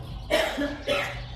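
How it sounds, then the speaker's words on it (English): A person coughs twice in the background of a home hallway, short, fairly close bursts with a brief throat-clearing quality and no speech. "Somebody back there coughing"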